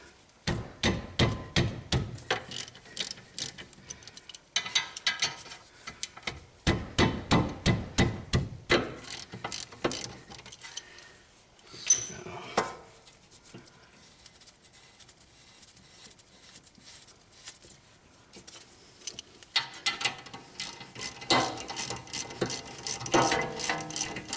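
A wrench works loose the brake caliper frame bolts on the front of a BMW E38. Bursts of rapid ratcheting clicks alternate with quieter pauses and a few metallic knocks, all close to the listener.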